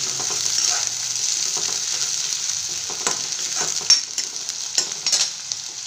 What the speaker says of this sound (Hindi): प्याज को हम थोड़ी देर ब्राउन होने देते हैं